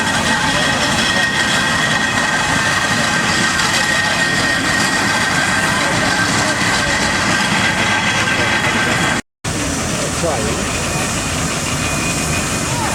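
The steam traction engine Great North hauls a load around the ring at the Great Dorset Steam Fair, giving off a loud, steady, dense mechanical rumble that runs throughout, broken only by a brief cut near the end.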